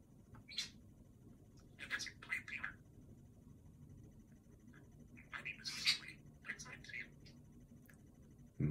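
A budgie (parakeet) gives a few short, high chirps in scattered bursts near the start, middle and end, with a low indoor hum underneath and a person's voice faintly present.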